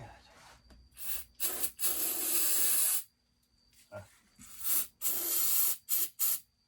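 Close aerosol spraying of cleaner into a Homelite 8800 chainsaw engine during crank seal replacement, in several hissing bursts, one long steady spray followed by shorter blasts with brief pauses.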